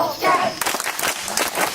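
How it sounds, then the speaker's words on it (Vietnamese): A group at a campfire night applauding, a quick burst of claps and cheering at close range, mixed with voices calling out. "Vỗ tay cho họ một cái."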